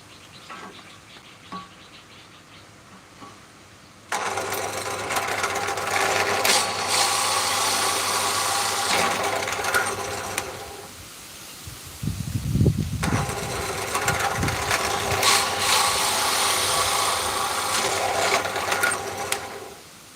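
A small drill bores holes in Phayung wood prayer beads, its motor whining in two long bursts separated by a brief pause filled with low handling noise.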